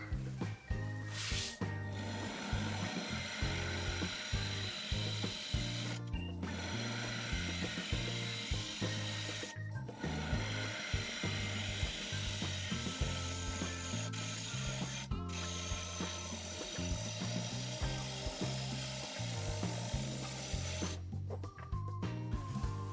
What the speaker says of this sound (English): I think I'm going to try a little bit with a scraper, the carbide tool.